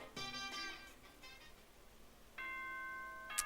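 A two-tone electronic doorbell chime from the Danganronpa video game rings once, pauses, and then a second chime begins. Both are clean and fairly quiet over a faint background.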